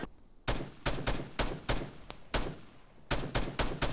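Gunfire in the video game Arma 3, with rapid bursts of automatic shots in rhythmic clusters separated by short pauses, loud and close.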